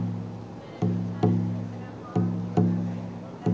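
Soft, low drum beats land slowly and unevenly, each thud fading before the next, with a faint steady drone underneath and no voices.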